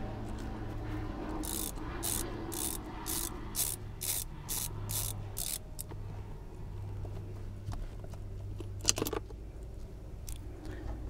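A T30 driver undoes an airbag screw on an Acura TL, giving a short series of evenly spaced ratcheting clicks up close, followed by a few faint handling clicks over a low steady hum, with no talk.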